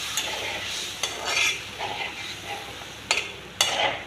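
Water is poured into a pan of seeds frying with spices, setting off a loud hiss and sizzle with bursts of bubbling and a few sharp spoon-scrape clicks against the pan.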